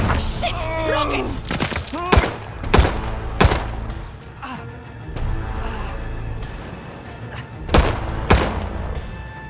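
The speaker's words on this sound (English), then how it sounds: "Rockets!" A battle in the video game Call of Duty: Vanguard: rocket blasts and heavy gunfire, a series of loud sharp explosive bursts with rumbling booms between them, mixed with shouted voices and a dramatic game soundtrack.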